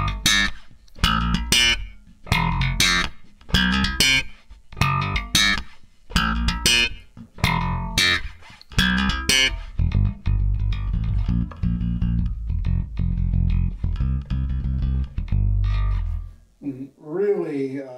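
Sterling by Music Man Ray4HH bass guitar, played in punchy, rhythmic plucked and slapped notes, loud and up close, then settling into a smoother sustained passage at the end.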